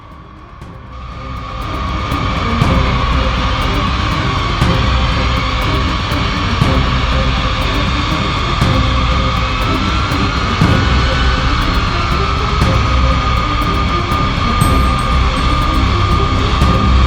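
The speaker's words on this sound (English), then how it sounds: "The emergency takeoff of dozens of U.S. B-52 bombers" A U.S. B-52 bomber takes off in an emergency launch: a loud, sustained jet engine roar that swells over the first seconds and then holds a steady, thunderous drone with a high whine.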